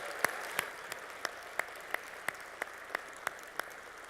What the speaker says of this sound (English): May I have a round of applause in recognition of Tony.